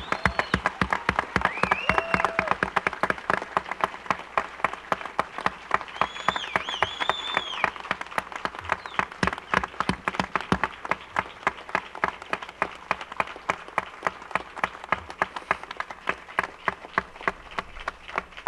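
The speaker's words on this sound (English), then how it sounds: "I just want to give Todd Nicely a big round of applause" Sustained crowd applause honoring Corporal Todd Nicely at his dream-house key presentation, dense steady clapping from many hands lasting throughout with faint scattered cheers.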